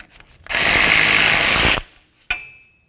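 A loud burst of an impact wrench rattling for over a second, removing a front axle nut on a Ford Expedition, then a short sharp metallic clink as the tool stops.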